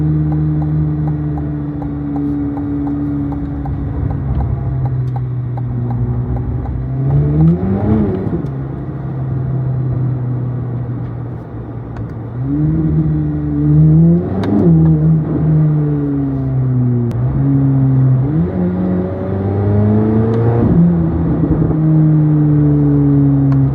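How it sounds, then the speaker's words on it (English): A Corvette Z06 rolls through traffic, its engine humming steadily with several rising and falling revs as it accelerates and eases off, close and continuous, with no talking. "just really just driving the car"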